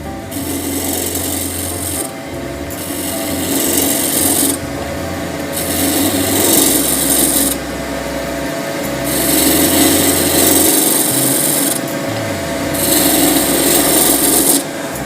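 A wood lathe spins a sacrificial glue block at about 1540 RPM while a hand tool cuts it in repeated passes, a loud rasping scrape pulsing on and off over a steady low motor hum.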